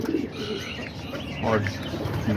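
Homing pigeons coo softly at close range, giving low, throaty calls with some faint chirps, under someone talking steadily about pigeon colours.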